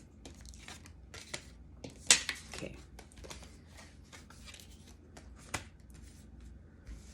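Tarot cards handled and shuffled on a table, giving soft papery riffles and flicks with a few sharper snaps standing out, close and fairly quiet with no talking.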